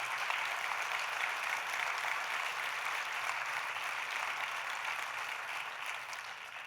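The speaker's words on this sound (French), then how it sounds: "Vous pouvez les applaudir." Steady, fairly quiet applause from an audience at a French trade union (CFTC) gathering, continuous clapping that holds level and fades slightly toward the end.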